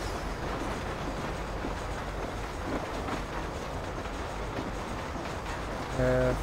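Rolling train in the video game Red Dead Redemption, a steady rumbling clatter of wheels on rails that holds even and close throughout, with a faint voice briefly underneath.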